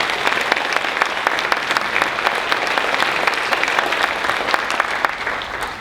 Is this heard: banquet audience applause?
yes